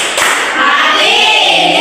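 Children's rhythmic thank-you clapping in a classroom during a teaching practice session, a loud dense burst of claps sounding close and continuous with no voices over it.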